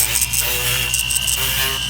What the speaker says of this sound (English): we want to soften them a little bit with a little drum sanding bit on